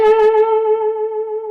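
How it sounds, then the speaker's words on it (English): Electric guitar played through an Earthquaker Devices Levitation Reverb pedal on a short setting with low mix, for blues tone: a picked note rings out clearly and sustains evenly, with a light reverb tail. "this is the Earthquaker Devices Levitation Reverb"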